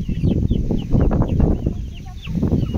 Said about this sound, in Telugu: కోళ్ళు వాటి పని అవి బాగా హాయిగా చేసుకుంటున్నాయి గింజలు తినుకుంటూ